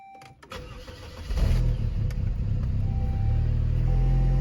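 A Saab convertible's engine cranks and starts up after a few clicks, then settles into a steady, loud, close idle rumble that runs to the end.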